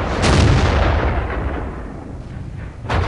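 A World of Tanks T1 Heavy's tank gun fires with a loud, booming blast that rolls away, and a second sharp shot bursts in at the very end.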